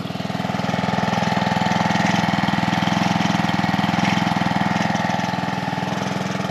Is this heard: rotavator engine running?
yes